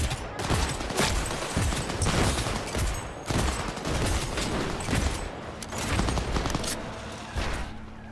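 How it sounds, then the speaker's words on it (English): Rapid gunfire bursts in Cyberpunk 2077 Phantom Liberty, repeated shots and volleys running almost continuously over a dense, loud backdrop of game action. "Who's shooting at me?"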